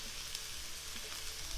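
Half a large diced onion fries in a tablespoon of olive oil in a skillet, giving a faint, steady sizzle with no voices.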